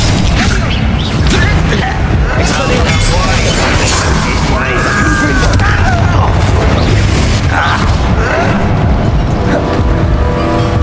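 A Descendo spell from Hogwarts Legacy lands with loud booming, crashing impacts and a dense roar of combat effects, sustained and heavy throughout the clip.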